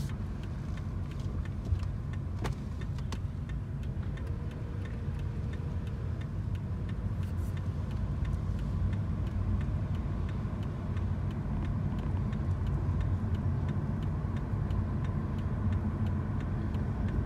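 A car rolls slowly around a park loop lined with big trees, its steady engine and road rumble filling the whole stretch with faint ticking over it, and nobody speaks.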